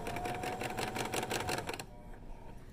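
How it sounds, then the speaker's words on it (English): A sewing machine backstitching over elastic on a cloth face mask runs in a fast, even needle patter for almost two seconds, then stops, leaving quiet room noise. "I backstitch to the beginning and I'm going to backstitch over each elastic's part also."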